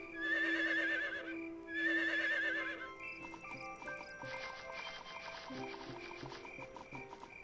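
A horse in the Harvest Moon farming video game gives two bright, wavering neighs, followed by a run of clip-clopping hooves under light game music, all at low volume.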